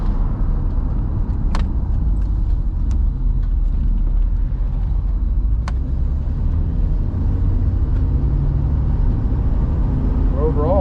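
A 1967 Rolls Royce with a 6.2 engine driving at around 40, giving a steady, loud low rumble of engine and road noise from inside the cabin, with a few faint clicks.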